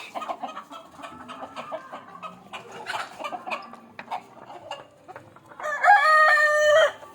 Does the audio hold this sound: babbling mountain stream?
no